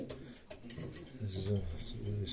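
Low, rounded pigeon coos repeat in short phrases, fairly close, with faint background noise and no talking.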